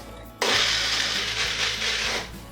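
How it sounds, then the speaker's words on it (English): A kitchen blender switches on abruptly and whirs steadily, pureeing smoked mushrooms with chicken stock, a loud close motor whine with slight wavering before it begins to wind down. "the mushrooms are just going to go into this blender and puree until smooth with a little bit of chicken stock"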